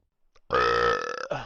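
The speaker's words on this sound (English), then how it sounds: "I'm burping a lot from chugging that fucking monster." A single long, deep burp comes after chugging a Monster energy drink. It is close and loud, with a short gulping tail at the end.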